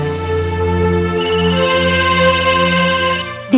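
A telephone rings indoors with a loud, sustained electronic tone, steady and close, changing pitch partway through before stopping.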